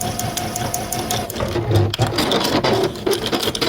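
A sewing machine stitches binding onto a quilt, its close mechanical whirring run broken by a few short pauses and clicks.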